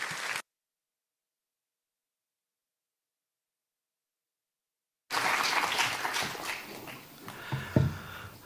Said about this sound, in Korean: 우리 이곳으로 다가오실 때 우리 환영의 박수로 우리 맞이하도록 하겠습니다.